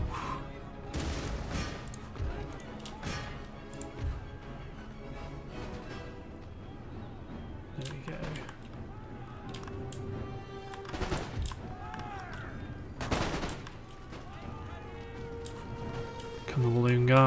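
Shrapnel-shot artillery fire in the video game Empire: Total War, scattered loud bangs and crashes at irregular intervals over a steady battle din, with someone talking throughout.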